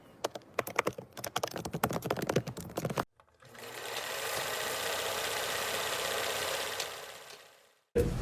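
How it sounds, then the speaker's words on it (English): Rapid clicking of keyboard typing in bursts, followed by a steady mechanical whir, then a brief return of clatter. "as soon as I play music, I'm typing like Gabby Hanna."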